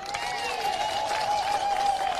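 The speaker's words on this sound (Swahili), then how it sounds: "Tuko hapa na Dr. Stephen Kalonzo Musyoka, mpigiwe makofi" A crowd at a Kenyan political rally claps for Kalonzo Musyoka in a dense, continuous wash of applause at a steady level, with a sustained tone running underneath.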